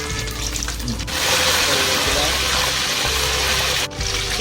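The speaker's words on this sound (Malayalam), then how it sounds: "ആ എണ്ണയിലേക്ക് കടുക് ഇടുന്നു" Mustard seeds dropped into about a litre of hot oil in a pan for a Karnataka-style mango pickle, a steady close crackling sizzle with a low hum underneath, continuous for several seconds with a brief dip near the end.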